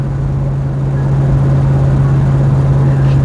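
A 1973 Ford Mustang cruising in third gear at around 35 to 40 mph, giving a steady, loud engine drone with constant road rumble throughout, no voices.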